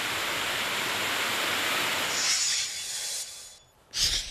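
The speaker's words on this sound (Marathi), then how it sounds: "प्लॅटफॉर्मच्या छतातून पाण्याचा धबधबा सुरू झाल्यानं प्रवाशांची तारांबळ उडाली" Monsoon rainwater gushes like a waterfall through the platform roof at Kalyan railway station: a loud, steady broadband rush that dips briefly near the end before surging again, with no voices.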